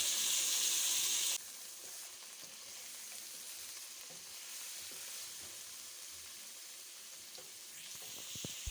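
Garlic ginger paste sizzles steadily as it fries in a pan while okra and meat curry is being made, a loud burst of frying at the start that settles into a softer continuous hiss.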